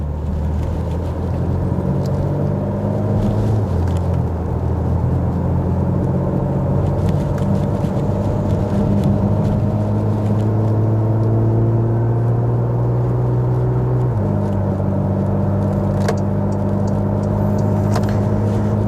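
Engine and road noise inside a 2017 Porsche Macan Turbo 3.6 while driving, a steady low drone with a pitch rise and a gear-change drop partway through, continuous and moderately loud.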